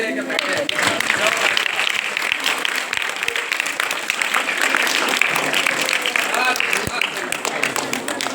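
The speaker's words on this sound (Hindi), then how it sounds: "तालियां बजाओ रे" An audience claps steadily at a school prize distribution ceremony, dense applause running the whole time at a fairly loud, even level with voices mixed in.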